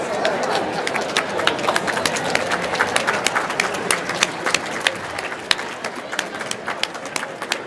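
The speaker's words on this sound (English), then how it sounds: "sit down and start applauding" A crowd at a Parkinson's educational symposium applauds continuously, dense and busy clapping from many hands that stays loud and even for several seconds.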